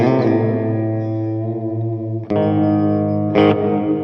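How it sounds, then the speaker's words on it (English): Sustained electric guitar chords ring through a Line 6 Spider Valve HD100 amp, washed in its built-in reverb, with a few fresh strums breaking in over the lingering tails. "Let's add some reverb in here."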